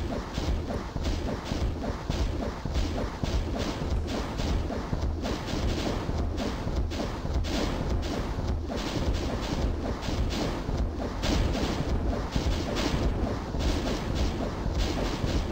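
Rocket explosions in the video game ZDoom fired into a crowd of cacodemons, heard as a loud, dense, nonstop barrage of booming blasts and rumble with no break for the whole stretch.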